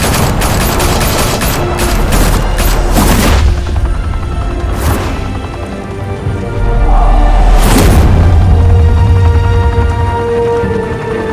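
Heavy gunfire in Batman The Telltale Series video game: loud rapid volleys of shots in dense bursts, a lull, then another sharp barrage with booming low end.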